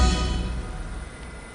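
Loud, broad roar of a jet engine aircraft, strongest at the start and gradually thinning and fading over a second and a half.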